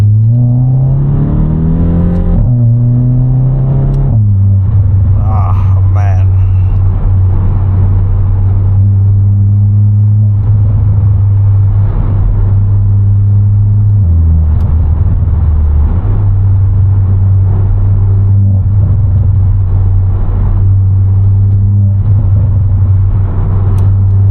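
A VW Polo GTI AW facelift rated at 280 hp pulls in second gear on a night drive, its loud, close engine droning steadily and rising in pitch, with crackling burbles on and off throttle.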